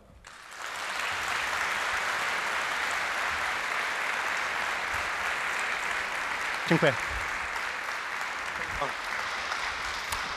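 Sustained audience applause after a talk on financial markets, a broad steady clatter of clapping that swells in quickly and holds, with a brief spoken thanks heard over it.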